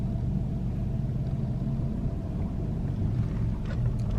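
A car approaches on a residential street among old houses in Cumberland, Maryland, heard as a steady low rumble throughout, with no voices.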